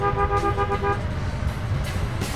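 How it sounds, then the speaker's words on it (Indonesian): In dense traffic on the road to the Surya Kencana tourist area, a few short car horn toots sound over the rumble of vehicles, close by. "Itu klakson-klakson."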